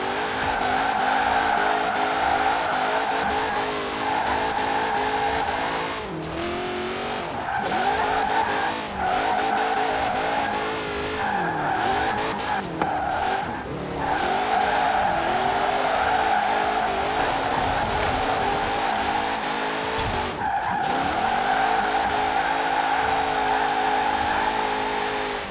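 A car drifts in Forza Horizon 4 with a loud, sustained tire squeal and a steady engine drone, the screech wavering in pitch over about twenty-five seconds.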